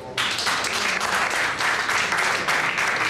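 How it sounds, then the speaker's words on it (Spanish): Loud, steady applause from a TV studio audience welcoming the opening performer of a variety show, a dense wash of clapping starting abruptly and continuing throughout without talk. "Pido un fuerte aplauso para el valiente que va a abrir el show de esta noche."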